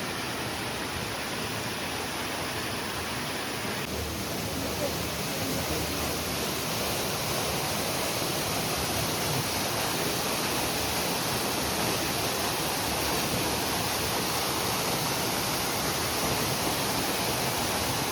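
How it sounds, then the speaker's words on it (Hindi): A small mountain waterfall in Jibhi rushes in a steady, unbroken wash of white noise that stays even and fairly close throughout. "इतना छोटा सा वाटरफॉल है"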